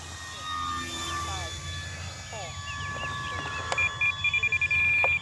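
A 1.2 m E-flite P-51D Mustang RC model airplane takes off without flaps, its electric motor whining with rising and shifting pitch, followed near the end by a run of short pulsed beeps.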